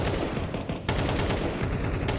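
Bursts of rapid gunfire ring out in a Counter-Strike match on the Inferno map, two dense volleys separated by a brief pause, loud and close.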